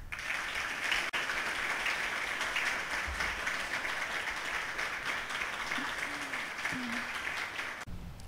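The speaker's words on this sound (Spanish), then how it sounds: "Pedimos un fuerte aplauso" Sustained audience applause at a university foundation forum, a dense even wash of many hands clapping steadily throughout, with a faint voice briefly audible near the end.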